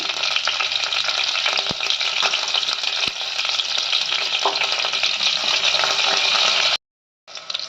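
Cumin, mustard seeds and green chillies crackle in hot oil for tempering, a loud continuous close sizzle with occasional stirring scrapes, then a brief cut to silence before the frying resumes.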